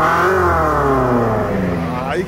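A tuned Hyundai Porter 1-ton truck with a dual muffler revs loud and close, its throaty drone climbing steadily in pitch as the throttle is held, then easing off at the end.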